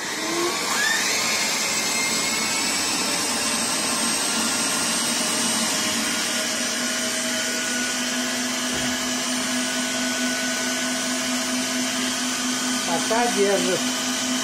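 Suction unit of a homemade robot vacuum cleaner running continuously, a loud steady whine with sustained tonal hum, close by, with someone speaking briefly over it.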